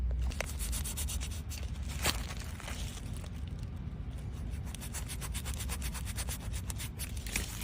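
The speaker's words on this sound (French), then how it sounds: "Et maintenant je vais découper ma mousse." Foam being cut by hand with steady rubbing, rasping strokes for a processionary caterpillar trap, close and continuous with repeated short scratchy pulls and no talk.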